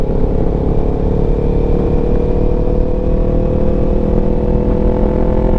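Motorcycle fitted with TST V2 stacks exhaust and a 2WDW tune, idling on light throttle as a loud, close, steady low rumble with a droning exhaust note and no talking.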